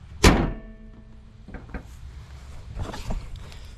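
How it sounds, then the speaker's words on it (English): Hood of a 2022 Toyota Camry rental slammed shut, one sharp loud metallic thunk near the start, followed by quieter handling knocks and rustles a moment later. "Let's get this hood shut."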